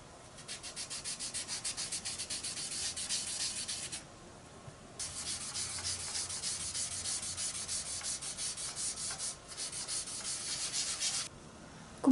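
Pastel is rubbed onto paper to colour a light blue background, producing a close, dry scratchy rubbing in long strokes with brief pauses between passes and no talking.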